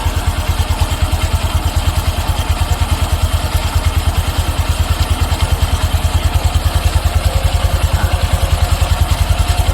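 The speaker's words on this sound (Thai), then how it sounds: "เครื่องเริ่มเร่งขึ้นมาแล้วครับผม" A Honda Wave 125 LED motorcycle engine runs alone close by with a fast, even, thumping rhythm, its pace gradually picking up as the idle speed rises during idle adjustment.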